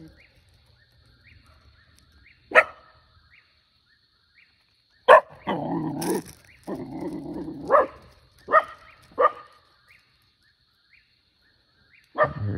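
A dog near a barn barks in scattered bursts, with several sharp single barks and a few longer barking runs separated by quiet gaps, heard from a moderate distance.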